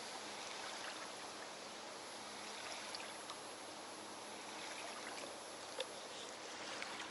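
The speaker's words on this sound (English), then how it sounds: "small waves from the boat that has passed here" Soft, continuous lapping of small waves from a passing boat against the shore, steady and gentle, with no voices.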